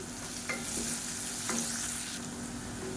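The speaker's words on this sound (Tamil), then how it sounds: "இப்போ இதில் மீடியம் சைஸாக மூணு பெரிய வெங்காயம் பொடியாக சாப் பண்ணி வச்சதை சேர்த்துக்கலாம்" Three large chopped onions fry in a pan with salt for an egg curry, a steady close sizzle with a few brief stirring scrapes and no voices.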